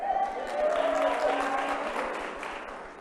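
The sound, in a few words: audience applause at national convention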